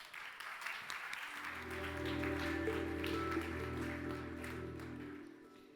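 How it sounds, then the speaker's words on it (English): An audience on a conference founder stage breaks into sustained applause, a broad wash of clapping that swells after a second and holds steady under a low droning tone before easing off. "Let's give applause"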